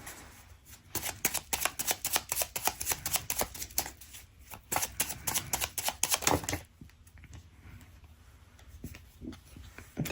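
Tarot cards being shuffled by hand at close range: rapid bursts of crisp riffling and flicking that run for several seconds, then settle into quieter, sparser card handling.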